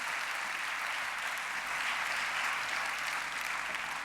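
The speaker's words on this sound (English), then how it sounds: "An applause, please, for the students of RITS." Sustained audience applause at a European award ceremony for freedom of expression, dense even clapping from a full hall that swells slightly midway and holds steady for several seconds without any voices.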